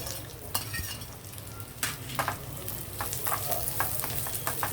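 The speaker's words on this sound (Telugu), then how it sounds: "ఇప్పుడు మంచి గోల్డెన్ కలర్ వచ్చే వరకు మనం వేగనిద్దాం" Raisins frying in a pan until golden for rice palada payasam, a soft continuous sizzle with repeated light scrapes and clinks of a stirring spoon.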